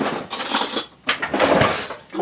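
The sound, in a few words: spoon being taken from cutlery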